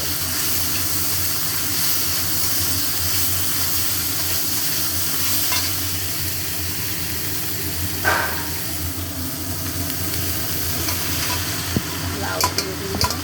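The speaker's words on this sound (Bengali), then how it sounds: "মশলাটাকে ভালো করে কষবো।" Spice paste with turmeric being stir-fried in a pan, with steady close sizzling and hiss throughout and scraping stirs marked by brief louder clatters near the end.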